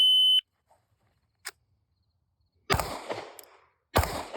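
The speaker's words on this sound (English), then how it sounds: "the shot timer will go off and I'll turn around and I will see the pink star" A shot timer's short electronic beep at a shooting range, followed by a faint click, then two loud, sharp gunshots spaced over a second apart, with reverberant tails.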